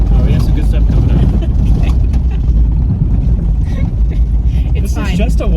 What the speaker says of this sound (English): This is just a washboard road. The bushings are shot on the front control arms, and so they're just rattling everything.